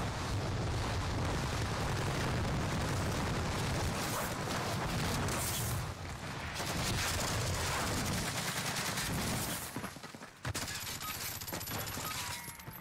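A B90 gun in a video game fires in continuous rapid automatic bursts, loud and dense and close up, with a short pause near the end before firing resumes.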